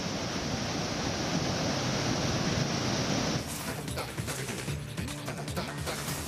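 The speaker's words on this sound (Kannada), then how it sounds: "ರಸ್ತೆಗಳ ಮೇಲೆಲ್ಲ ನೀರು ತುಂಬಿ ಹರಿತಾ ಇದೆ" Floodwater after heavy rain in Vijayanagara district rushes across roads in a steady, loud broadband roar, like surf. Partway through the noise thins into a lower wash with faint background sounds.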